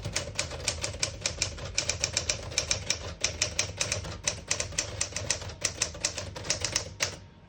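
Rapid typing on a 1964 Smith-Corona Sterling portable typewriter in excellent condition, a dense run of sharp close key strikes in quick irregular bursts with brief pauses, ending in a short tail.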